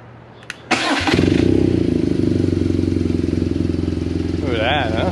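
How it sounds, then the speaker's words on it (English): A BMW R nineT motorcycle fitted with an Akrapovic exhaust starts up and settles into a steady, close, throaty boxer-twin idle, with a brief blip near the end. "Let's hear it run. It's got an Akrapovic exhaust."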